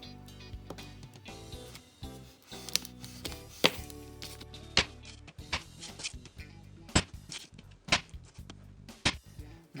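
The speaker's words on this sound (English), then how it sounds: "we're going to chop the chocolate into small chunks" A knife chops chocolate into small chunks on a board, with sharp, irregular close-up chops and taps spread throughout, some strokes louder than others.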